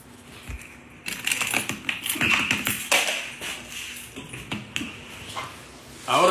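Clattering keystrokes on a computer keyboard set on a board, loud and close, in irregular bursts of taps and clicks with a few quiet gaps and no talk.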